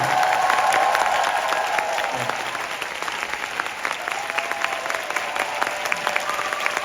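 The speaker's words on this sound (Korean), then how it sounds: "박수 한번 부탁드립니다." Loud, full applause with some cheering from the audience at a year-end special curtain call of a musical, rising strongly at first, then holding steady as a voice briefly speaks over it.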